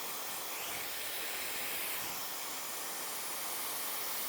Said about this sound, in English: with my blow dryer.